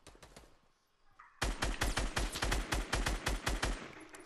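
Rapid bursts of automatic gunfire in a video game, sharp repeated shots firing fast and loud after a quieter opening with a few scattered shots.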